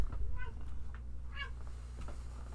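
A pet cat named Ariel meows indoors, two short close meows a second apart against a low steady hum, with a couple of fainter chirps afterward.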